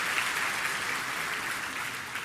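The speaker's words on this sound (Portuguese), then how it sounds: "dá uma salva de palmas aí" A church congregation breaks into steady, dense clapping that holds at an even level throughout, with no voices standing out.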